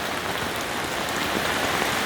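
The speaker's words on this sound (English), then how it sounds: "So it's raining" Heavy rain drums steadily on a tent, a dense continuous hiss and patter with no break, close and fairly loud, with no talking.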